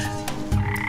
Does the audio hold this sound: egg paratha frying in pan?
no